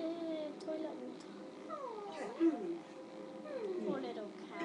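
Cat meowing in the video game LEGO Harry Potter, several rising and falling meows spread across the moment, mixed with game sounds and a person talking over them.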